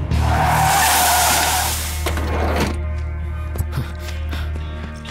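A car skids loudly to a stop in a movie scene, a long tire squeal lasting about two seconds before fading into a low idling rumble.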